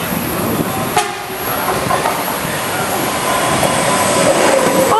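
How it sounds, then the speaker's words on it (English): A four-car double train passes close by at Vila Olimpia, a loud, steady rail rumble and wheel roar that fills all five seconds. "4-car train, double."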